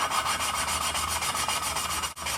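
A valve from a Ford 351 Windsor engine is hand-lapped with a greased lapping stick, giving a steady close gritty rubbing rasp with a quick back-and-forth pulse, heard alone.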